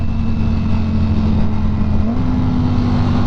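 A Ducati Panigale V4S engine drones steadily under the rider, loud and close with a low buzzing tone and wind rush, and a slight pitch step suggests a gear change.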